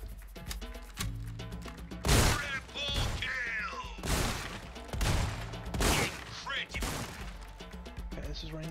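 Shotgun blasts in Resident Evil 4 Remake, roughly half a dozen loud booming shots spaced about a second apart, mixed with game music and someone talking.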